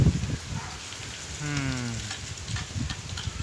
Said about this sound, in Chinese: 马上又要下大雨了。